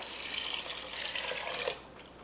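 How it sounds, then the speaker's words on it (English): Water pours into a cooking pot for soup in a home kitchen, a steady close splashing rush that stops abruptly near the end. "Then we're gonna add some water."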